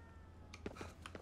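A cat meowing in the video game Ghostwire: Tokyo, a few short faint mews in quick succession over a quiet low hum.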